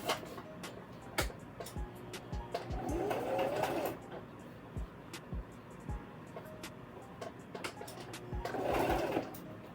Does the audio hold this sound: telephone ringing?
no